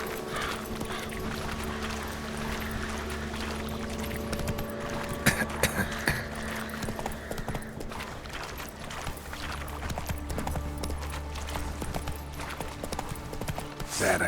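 Galloping hooves of Roach, Geralt's horse in The Witcher 3, drumming steadily and loudly throughout over a constant low ambient rumble, with a few louder thuds midway.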